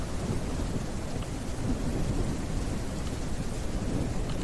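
Heavy, steady rain pours down with a continuous low roll of thunder in the farming video game Ranch Simulator, with no talk over it.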